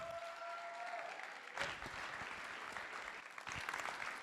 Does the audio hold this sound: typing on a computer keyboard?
no